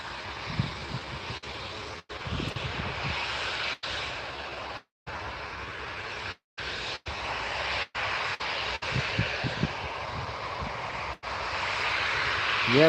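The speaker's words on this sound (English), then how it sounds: "You like a good VistaJet. CRJ 200." A VistaJet CRJ 200 jet runs at an airport as a steady, broad engine roar that holds throughout, broken by a few brief dropouts.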